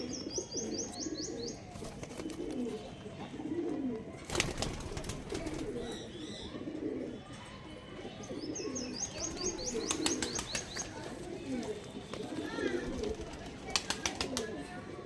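Madras pigeons and their squabs cooing in a loft, soft low coos layered with chirps and brief wing flutters, close and continuous with a faint murmur of voices behind.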